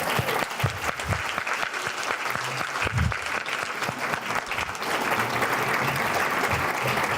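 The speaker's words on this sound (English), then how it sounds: "Please give a huge round of applause and a sincere congratulations to our 2019 High School Women Who Make a Difference recipient" Sustained audience applause at a Women Who Make a Difference luncheon honoring a 2019 high school award recipient, a dense steady crowd clapping that continues evenly throughout with no voices over it.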